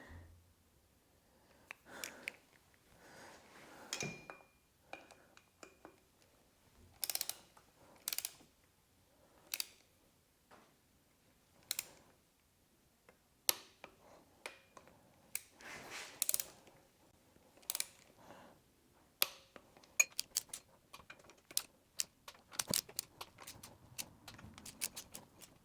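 Torque wrench tightening ARP head studs on an engine with an MLS head gasket, quiet repeated ratcheting clicks and sharp metallic snaps in irregular bursts, close and faint.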